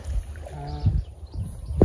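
Up close, an old village boatman rows a boat through water: low hollow knocks and soft splashes of the oar, a brief humming tone in the middle and a sharper splash at the end.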